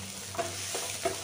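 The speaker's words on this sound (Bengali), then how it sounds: "সবজিটার সাথে, ক্যাপসিকাম আর গাজরের সাথে ভালো করে ভেজে নেবো" Dalia fries with capsicum and carrot in a pan, a soft steady sizzle broken by a few light scrapes of stirring, close and alone.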